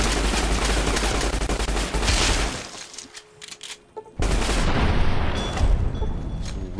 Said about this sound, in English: You didn't stand a chance against my my Tommy gun.